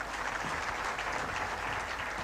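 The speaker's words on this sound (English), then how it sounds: "Can we have another round of applause," Conference audience at a regional international conference claps in a steady, dense round of applause, even and sustained throughout without any speech.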